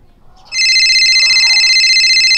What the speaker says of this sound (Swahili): Mwalimu wako huyo anapiga simu.